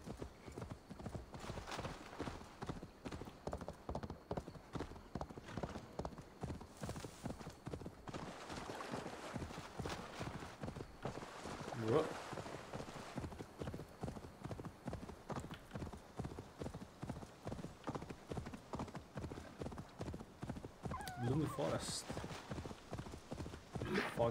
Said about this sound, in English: The horse cannot run to save its life.